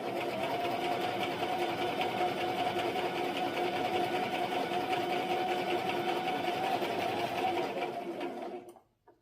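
A sewing machine stitches slowly around curves on a sample garment, a steady, close, continuous rapid clatter that runs for about eight seconds before winding down and stopping.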